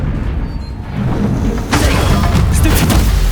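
Confringo spell explosion in the video game Hogwarts Legacy, a loud rumbling blast building up with low booming impacts and crackle, close and sustained over a noisy combat background.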